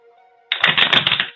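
Cards are shuffled in a quick, crisp riffle that lasts about a second, right after a moment of low murmuring.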